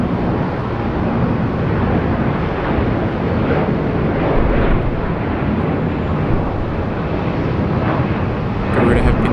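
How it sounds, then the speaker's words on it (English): Loud, continuous roar of a Garuda Indonesia Airbus A330-300 jet departing Sydney Airport for Denpasar, a broad rumbling engine wash that stays steady throughout, with some wind noise. "Garuda A330-300 heading back to Denpasar."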